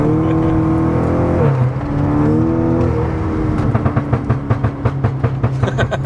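A Stage 3 tuned MK6 Golf GTI engine revs up close, its tone climbing and then settling into a rhythmic, pulsing idle with crackles.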